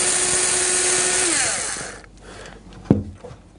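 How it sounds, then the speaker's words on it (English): A power tool whirs steadily at close range while undoing a nut on a washing machine heater's retaining clip, then winds down and stops, followed by a single sharp metallic clank. "now I just need to undo this nut, which is attached to the retaining clip, just with a spanner or"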